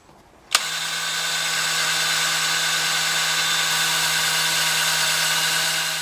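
A power drill bores into a broken bolt on an LS tractor. After a faint click it starts abruptly and holds a loud, steady whine for about five seconds, with no voices.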